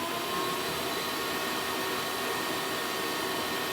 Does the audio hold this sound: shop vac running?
yes